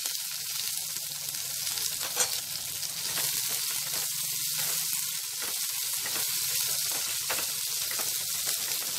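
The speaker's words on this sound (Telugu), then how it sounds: "ఇప్పుడు కరివేపాకు, ఆనియన్స్ కూడా వేసేసుకుందాము." Dried red chillies, curry leaves and onions crackle in hot oil for a Telugu ponnaganti leaf tempering, a steady close sizzle with occasional stirring scrapes, no talk.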